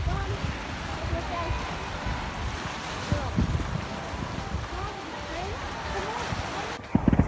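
Calm sea waves lap softly at evening, a steady low wash mixed with wind buffeting the microphone and a brief knock near the end.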